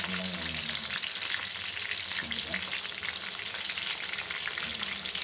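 Chicken wings deep-frying in oil give off a dense, loud, continuous crackling sizzle that stays steady throughout, with faint low murmurs of a voice underneath.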